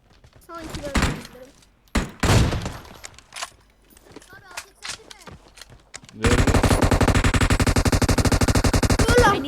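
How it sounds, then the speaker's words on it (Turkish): PUBG Mobile gunfire: scattered single shots and short bursts with loud impacts, then a sustained rapid automatic volley filling the last few seconds, with players talking over the shooting. "M200'e kim sıktı lan?"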